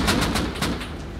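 A short burst of rapid gunfire from the video game Rust, about half a dozen quick, sharp shots in a steady rhythm, loud and close, fading slightly at the end.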